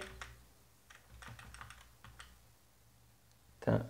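Fingers tap on a computer keyboard while code is entered for a Bootstrap tooltip: scattered, light keystroke clicks in short irregular runs over a low hum, ending in a louder, heavier knock.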